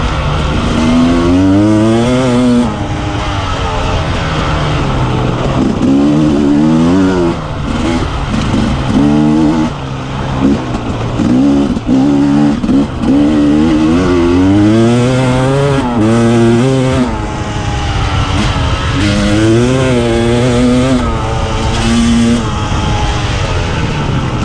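A motorcycle engine fitted with a STIC metering block revs up and down repeatedly with strong rising and falling pitch sweeps, loud and close and continuous throughout, with no talking.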